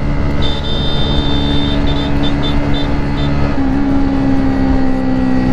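Hero Splendor motorcycle held at full throttle, a loud, steady, unbroken engine drone close by with a slight shift in pitch partway through and faint whistling tones above it.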